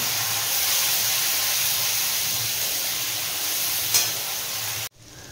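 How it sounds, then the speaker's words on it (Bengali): Ground spice paste hits hot oil tempered with dried red chilies and whole cumin for a mixed vegetable dish, giving a loud, steady, close sizzle that runs unbroken, then drops away sharply near the end. "ফোড়নটা ভাজা হয়ে গেছে, এবার বেটে রাখা মশলাটা আমি দিয়ে দেব এর মধ্যে"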